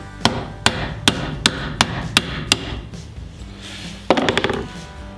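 Metal part clamped in a bench vise tapped with a hammer during a rolling cart repair: seven evenly spaced sharp strikes, then a quick cluster of lighter rapid taps near the end, close and clear with no talking.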